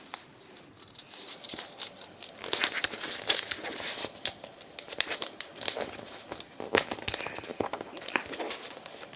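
A paper dollar bill is folded for origami, giving soft close crinkles, rustles and small creasing taps in an uneven stream, with no talking.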